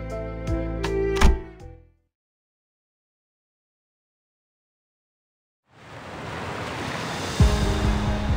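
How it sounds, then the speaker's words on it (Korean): Water splashing and waves in the video game Limbus Company: a short musical passage cuts to silence, then a steady wash of surf rises and continues with a soft splash near the end. "첨벙 첨벙."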